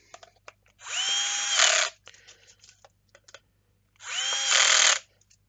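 Two short bursts of a power drill driving screws into a resin dice tower, each about a second long with a rising whine, separated by small clicks and handling taps.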